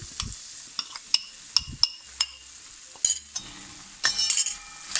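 A spoon stirs mawa into bottle gourd halwa in a pan, producing a series of sharp metallic clinks and scrapes at an irregular pace, closer and busier toward the end, over a faint sizzle.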